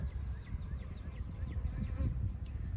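Honeybees buzzing at an open hive near the brood box, a steady low continuous hum that stays moderately close and unbroken throughout.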